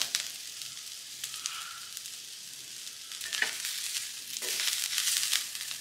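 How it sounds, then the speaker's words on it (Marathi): Onions fry in a pan for a masala prawns dish, giving a close, steady hissing sizzle with occasional crackles and stirring scrapes that grow a little louder toward the end. "तुम्ही बघू शकता आपला कांदा आता झालेला आहे"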